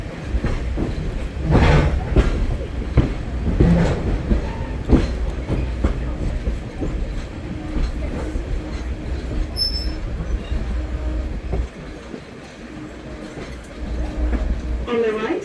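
Blue Ridge Scenic Railway excursion train rolling along mountain tracks, a steady low rumble of railcars with rhythmic wheel clatter and occasional squeals, heard from inside the car as a narrator's voice runs over it.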